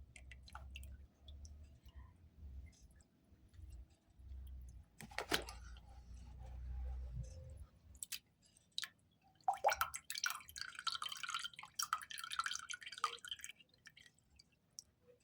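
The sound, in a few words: straining soaked glutinous rice, water dripping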